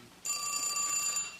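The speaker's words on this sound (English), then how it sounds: "Oh, listen, that's my phone." A telephone rings in a 1980 soap-opera scene, one steady bright electronic ring that starts abruptly and holds for about a second, heard alone without talk.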